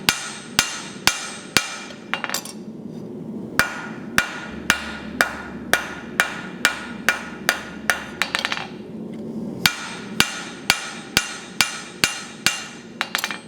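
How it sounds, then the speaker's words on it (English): Blacksmith's dented, poorly dressed hammer striking hot steel on an anvil while forging a taper, a steady series of loud, ringing blows at a regular rhythm with brief pauses, close and alone with no talk. "we're going to put a mark on the anvil and then forge the other taper to that mark"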